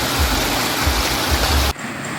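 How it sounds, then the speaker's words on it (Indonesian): Floodwater from an overflowing river rushes in a loud, continuous roar with heavy low rumbling surges before cutting off abruptly. "Luapan air sungai mengalir deras dan merusak puluhan hektar tanaman padi dan jalan beton"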